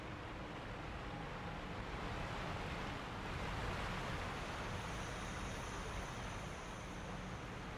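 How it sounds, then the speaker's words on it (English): Roaring waterfall in the Sekiro game, a dense, steady broadband rush of falling water filling the whole stretch, loud and unbroken with no other sounds. "The noise of the roaring waterfall is deafening."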